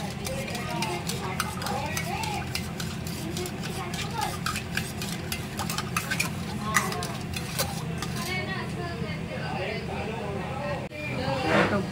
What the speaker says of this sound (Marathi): हे चांगलं मिक्स करून घेते.